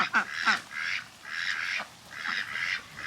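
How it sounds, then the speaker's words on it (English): Ducks quacking in a loose series of nasal calls, several overlapping bursts close by with short pauses between them, in the rain. "They talk to me more than the chickens do. These little ducks."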